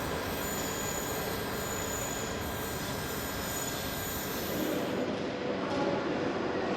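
Steady rumble and squealing wheels of the TCDD Izmir Mavi night train hauled by an E68000 locomotive, heard from on board as continuous rolling noise, moderately loud, with no talk.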